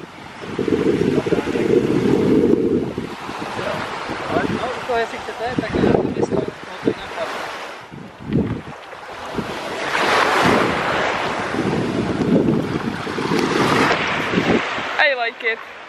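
Surf and wind at a sea beach with a sea view, steady rolling wash of waves with gusting wind noise on the microphone, continuous and fairly loud, with some voices faintly underneath.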